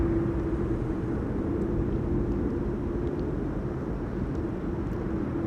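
An airliner in SkyTeam livery, a Garuda Indonesia jet, approaches Amsterdam Schiphol in stormy weather, its steady engine drone and low hum running loud and continuous under gusting wind noise.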